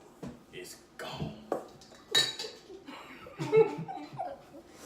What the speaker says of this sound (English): I can't even mix up the cookie dough with peace and quiet.